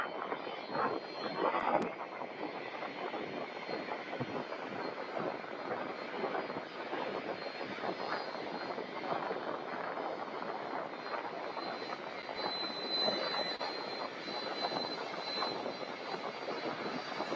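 An airliner takes off from Louisville airport bound for LAX, its engines a steady, loud, broadband roar that holds for the whole stretch with no talk over it.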